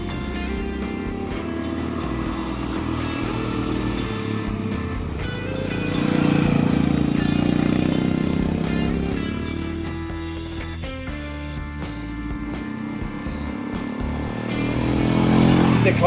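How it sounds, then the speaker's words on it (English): A Royal Enfield Himalayan motorcycle ridden up into hills in the Basque Country, its engine droning steadily with rising and easing swells as the throttle changes, close and continuous throughout. "it was then back on the bike, riding up into the hills to continue the adventure"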